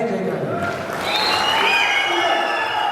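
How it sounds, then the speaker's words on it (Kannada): An audience claps loudly at a fan event honouring the actor Shivarajkumar, a dense crowd applause that swells after a moment, with cheering and voices mixed in throughout. "ಜೋರಾಗಿ ಚಪ್ಪಾಳೆಯಿಂದ"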